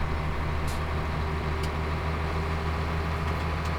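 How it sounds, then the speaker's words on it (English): A well-used lorry engine in the Farming Simulator 17 video game drones steadily up close, with a low, constant rumble and hum that never changes for the whole stretch. "This lorry's had quite a bit of use."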